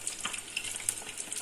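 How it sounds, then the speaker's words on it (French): Djiboutian fish frying in hot oil gives a steady bright sizzle with small crackles and pops throughout, close and even in level, and no one speaking. "On peut refaire venir un petit peu le poisson dans l'huile, voilà, faire frire"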